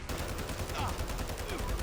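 Rapid automatic gunfire from the ISO Hemlock rifle in the Fallout 4 video game, a dense continuous burst of shots fired at close range throughout.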